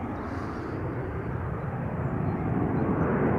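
An airliner leaving Schiphol Airport for Inverness rumbles with a continuous broadband roar that swells gradually louder toward the end.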